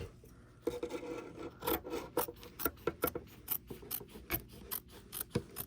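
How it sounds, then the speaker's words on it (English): Scissors trimming excess fabric from a flat-bottom crossbody bag, a quick series of crisp rasping snips and cuts, close and moderately loud, with no talking. "You can go ahead and trim some of this away now."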